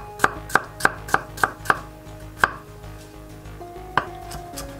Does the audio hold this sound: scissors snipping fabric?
no